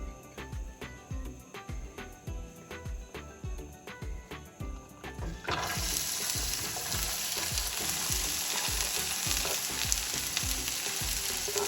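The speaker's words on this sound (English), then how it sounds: "Once you fry bindi, it's going to be shrink." Okra frying in light avocado oil in a pan, a steady loud sizzle that swells as the okra goes in, with rhythmic scraping stirs through the first half and no talk.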